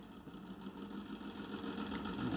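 An ordinary electric fan powered from a motorcycle battery whirs steadily, a faint continuous motor hum with a soft pulsing flutter from the spinning blades, close and alone.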